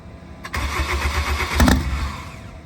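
A 1,200 hp Honda Civic Si engine cranks with a rhythmic, chugging starter whir for a couple of seconds, close by, without catching.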